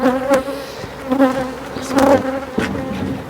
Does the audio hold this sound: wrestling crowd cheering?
no